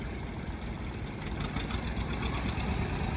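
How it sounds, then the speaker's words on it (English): A 1959 John Deere 630 two-cylinder tractor runs in a heritage tractor parade in Lanesville, Indiana, producing a steady, moderately loud engine rumble for a few seconds with no talking. "She's on her John Deere 630, 1959."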